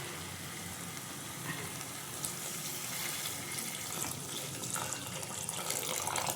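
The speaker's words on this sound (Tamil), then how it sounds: "வதக்கிட்டு நம்ம இப்போ வந்து இதில் வந்து தண்ணி ஆட் பண்ணிக்குவோம்" Water is poured into a hot pan of sautéed tomatoes for egg curry, making a steady, soft splashing gush mixed with sizzling, with no talk.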